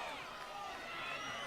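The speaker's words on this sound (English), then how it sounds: "crowd appealing for holding the ball" A crowd at a women's Australian football grand final match roars in a faint, distant swell that runs under a commentator's voice.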